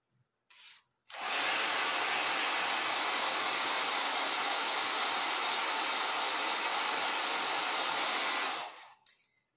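A hair dryer drying stencil paint on a country primitive painting starts after a brief sputter, then roars at a loud, steady, breathy whine for about seven seconds before cutting off.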